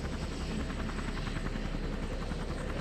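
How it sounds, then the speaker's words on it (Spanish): A helicopter's rotor chops with a steady rhythmic thumping, fairly faint and distant, continuous with no voices. "¡Un helicóptero, papá!"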